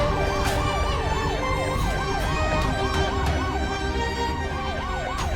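An ambulance siren wails in a steady rising-and-falling cycle, loud and continuous over traffic rumble, with a few faint knocks along the way.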